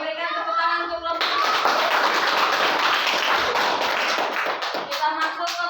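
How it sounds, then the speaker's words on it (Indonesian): A burst of group applause from a room of people in a class, steady clapping for several seconds, with faint voices and tapping before and after. "berikan tepuk tangan untuk kelompok"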